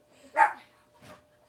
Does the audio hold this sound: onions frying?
no